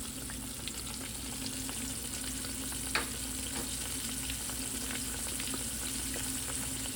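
Cubed steak pieces browning in a frying pan before going into a crock pot, with a steady, even sizzle and scattered crackles, one sharper pop partway through, close and unbroken with no voices.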